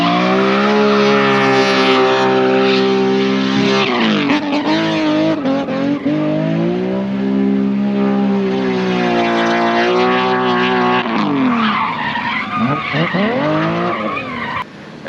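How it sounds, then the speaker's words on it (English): A quad-rotor rotary Commodore drifts with a loud, sustained tyre screech over a rising and falling engine howl, close and continuous throughout. "took it drifting"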